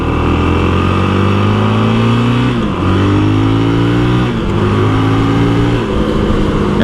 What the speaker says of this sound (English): I'm riding my, what is it? My Honda 2025 CRF450RL.